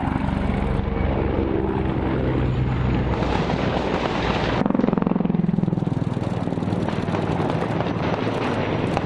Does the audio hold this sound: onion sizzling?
no